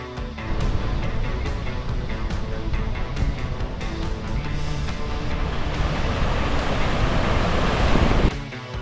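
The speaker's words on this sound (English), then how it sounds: "listening to the deafening roar of the waterfall attentively" A loud, continuous roar of a waterfall in Iceland fills the air, dense and unbroken, then drops off abruptly at the end.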